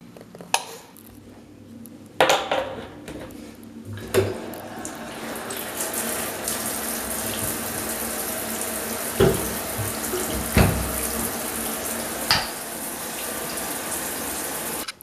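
Tap water pours steadily into a filling bath, a constant close splashing rush with a few sharp clunks and knocks scattered over it, and no talking.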